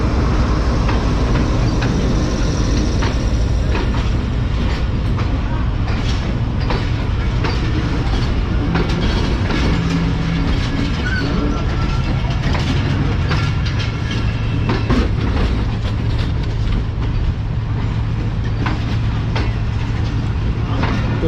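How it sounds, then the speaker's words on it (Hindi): Pakistani 7 Up Tezgam passenger train curving slowly into Lahore Junction station, a steady loud rumble of rolling wagons with clicking wheels and faint squeals, continuous and close throughout. "तो मुड़ते मुड़ते पहुंच रही है हमारी 7 अप तेज़गाह"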